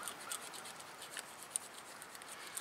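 A gun cleaning brush scrubs around inside a hole in a rusty-free brake caliper from a 2003 Toyota Corolla, giving a faint, steady rasping scrape with small clicks, close up and without talk.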